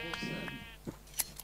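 Bighorn sheep in a Minecraft modpack, giving a quiet, nasal bleat near the start followed by a few short, faint clicks and pops, with no voices.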